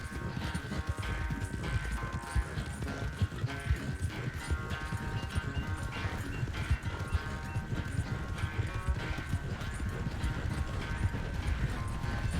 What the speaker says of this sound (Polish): Moja Luna to koń bojowy, a jego pewnie jest jakiś wyścigowa.